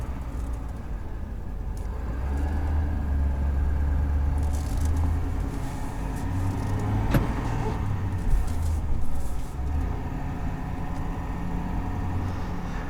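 The Powerstroke diesel engine of a 2021 Ford F-350 STX runs at a steady, low, rumbling idle for the whole stretch, with faint rattles and no talking.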